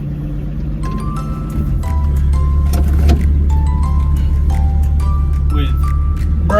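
A 1954 Hudson Hornet idles and drives around the block, a steady low engine drone with rising revs, while a ticking blinker clicks and faint interior sounds come and go.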